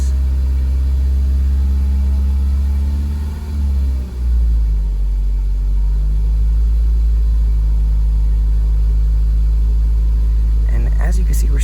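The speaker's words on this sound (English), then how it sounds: "As we increase engine RPM" A car engine rumbles loudly and steadily, its pitch climbing as the revs rise, then holding at a higher idle; a voice briefly cuts in at the end.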